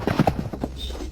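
Horse hooves clip-clopping at speed through a battle scene, a quick run of firm, uneven thuds close by, with a brief whinny-like tone near the end and no speech.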